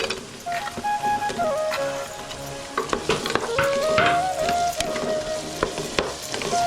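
Onion and tomato fry in oil for chicken biryani, giving a steady close sizzle broken by scraping stir strokes and occasional clinks against the pan, with no talk.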